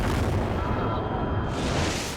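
A loud, sustained explosive roar from the film Ad Astra fills the moment, a dense broadband blast with heavy low rumble lasting about two seconds, no voices present.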